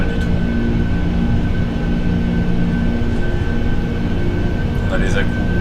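Airliner engines idle and rumble steadily while the plane taxis in the X-Plane 12 flight simulator, a continuous loud drone with a faint high whine, as someone talks over it.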